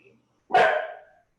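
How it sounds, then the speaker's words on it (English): A single dog barks once, loud and close, a short sharp bark during an indoor chapter meeting, after near silence. "I almost jumped at the dog barking there"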